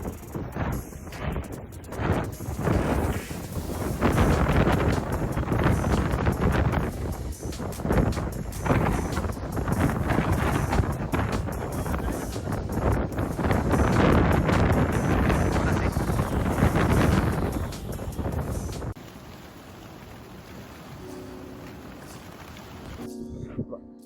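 Strong wind of about 70 km/h at a reservoir during a storm, roaring and buffeting steadily against the microphone for most of the clip before easing near the end, with people talking over it.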